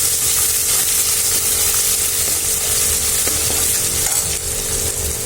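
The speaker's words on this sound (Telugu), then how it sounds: "అల్లం వెల్లుల్లి పేస్ట్ వేసుకోవాలండి. ముందునే కొంచెం పచ్చివాసన పోయేదాకా వేయించుకోవాలి." Ginger garlic paste frying in a hot pan gives a steady, dense sizzle with no break, a few faint clinks of a utensil rising out of it.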